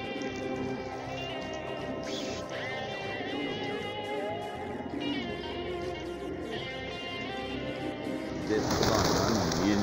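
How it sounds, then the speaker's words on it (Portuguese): Soft, low cooing of pigeons feeding on corn repeats steadily at close range, with a faint hum behind it and a rustling burst near the end. "Tão chegando mais pomba aí."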